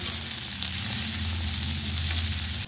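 Onions fry in hot oil with a constant, close sizzle and dense crackling hiss that holds steady throughout, with no talking.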